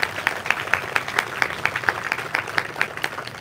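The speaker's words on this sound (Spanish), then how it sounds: "Un aplauso fuerte para el obispo" Church audience clapping for a bishop at a Catholic gathering, a steady, rhythmic run of distinct claps at moderate loudness, fairly close, with no talking over it.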